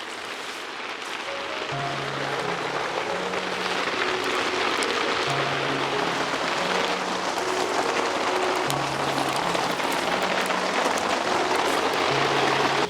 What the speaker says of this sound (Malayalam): പയ്യെ മഴയും തുടങ്ങിയിട്ടുണ്ട് ഇവിടെ ഈ തുലാമഴ ആയതുകൊണ്ടേ നന്നായിട്ട് പെയ്യും കേട്ടോ മഴ